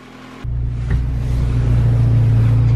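A Honda Integra DB1's turbocharged B18B1 engine drones steadily while driving, a low, even rumble that steps up abruptly in loudness after a quiet start and holds a sustained hum with no talking.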